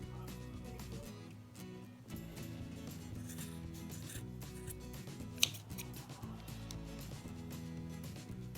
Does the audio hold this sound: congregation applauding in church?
no